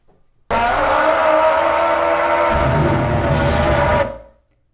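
A long scream played back at half speed, a steady dense roar that drops lower midway, then cuts off abruptly and fades.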